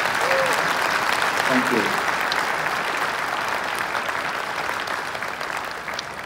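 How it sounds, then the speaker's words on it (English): A round of applause for Tableau community leaders being honored at a Dreamforce Golden Hoodie presentation. The clapping is thick and sustained and slowly fades, with a voice briefly speaking over it. "Let's give them a round of applause."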